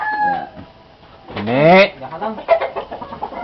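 A rooster or chicken on a farm gives a loud, drawn-out crow-like call in the middle, with nearby voices talking before and after it.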